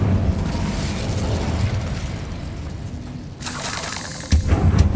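The Incendio fire spell is cast in the video game Hogwarts Legacy, giving a rushing burst of flame over continuous game noise, followed by a sharp pop and a louder crackling surge near the end.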